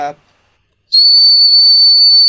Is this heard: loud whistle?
yes